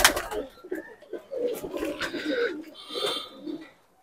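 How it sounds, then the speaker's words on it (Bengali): A female Punjabi Malwai pigeon gives several soft, throaty coos close by, in uneven bursts separated by short pauses, with faint background noise. "মাদি পায়রাটা যে এতটাই আমার ভালো লেগেছে কি বলবো"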